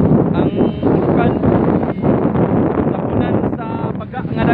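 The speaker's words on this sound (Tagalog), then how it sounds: "Kwan siya karon kining hangin-hangin." Wind blows hard across open ground at White Island, a loud steady roar buffeting the microphone from start to finish, with faint voices now and then underneath.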